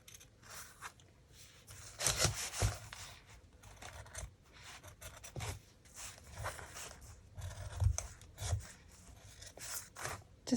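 Paper calendar corners being trimmed with scissors, giving repeated short rasping snips and rubbing with a few louder bursts, close and fairly quiet.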